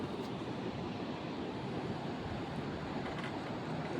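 Outdoor creek water at Ilomavis, Kidapawan City, flowing steadily with a dense, even rushing wash, constant and moderately loud for the whole stretch.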